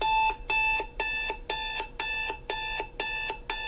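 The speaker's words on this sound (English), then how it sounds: "Turn the alarm off." An alarm clock rings loudly and close by in rapid repeating bursts, about two beeps every half second, steady and insistent with no voices over it.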